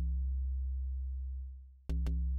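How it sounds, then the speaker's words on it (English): An Ableton Live Collision preset synth, reshaped with filters, plays a low sustained tone that fades out, then two short, sharp plucked hits follow; quiet and alone, without talk. "On top of the bassline we have this other sound which is made with another Ableton preset made on Collision"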